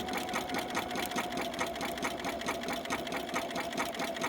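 A sewing machine runs continuously while stitching appliqué fabric around a curved heart shape, giving a fast, even mechanical rattle that is close and steady throughout with no talk.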